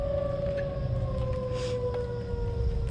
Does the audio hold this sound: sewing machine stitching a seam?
no